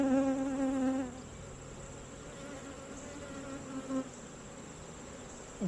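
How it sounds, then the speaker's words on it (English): Honeybees buzz over a hive frame as new bees emerge, a steady close insect drone, louder and denser in the first second, then continuing evenly throughout with no talk. "Bees emerging."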